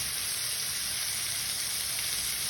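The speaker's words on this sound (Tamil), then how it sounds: "சாம்பார் வெங்காயம் ஒரு பொன்னிறமாக வரைக்கும் நல்லா வறுக்கலாம்." Sambar onions (shallots) frying in a pan, a dense continuous sizzle with steady hiss and crackle throughout, close and moderately loud, with no voices.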